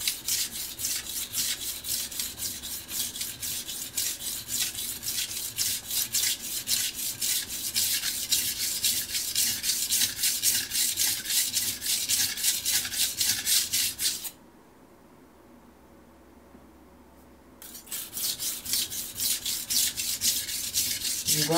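A chipped kitchen knife is ground on a coarse Shapton Pro whetstone in a fast, steady rhythm of close, gritty rasping strokes that stop for about three seconds and then resume.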